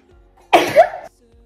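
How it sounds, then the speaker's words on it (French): A single sudden sneeze bursts out of near silence, short and forceful, then quiet returns. "J'ai envie d'éternuer"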